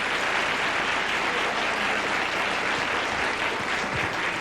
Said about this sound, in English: Yeah, you can applaud for him.